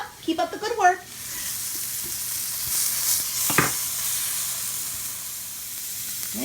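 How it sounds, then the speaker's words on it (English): Pot roast meat browning in a pan for a slow cooker recipe, with a steady close frying sizzle and hiss throughout; brief kitchen clatter and a voice appear near the start. "When the fat won't come up, just fry it off."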